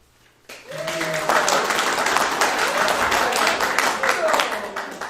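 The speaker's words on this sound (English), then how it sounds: "So you can vote by your applause." Meeting attendees applaud to cast votes for a contestant named Dina, a broad wash of clapping that starts abruptly and holds steady, with voices mixed in the crowd.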